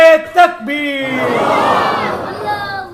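A crowd shouts the takbir slogan together at a religious gathering, a loud massed cry answering a single voice that calls out the words first.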